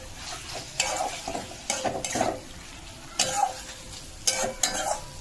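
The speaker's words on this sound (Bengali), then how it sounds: "একটু ধনেপাতা দিয়ে দিলাম, এটা কষবো ধনেপাতাটা দিয়ে" Curry is sautéed and stirred with fresh coriander leaves in a pan, producing bursts of spatula scraping over a continuous close sizzle, with no talking.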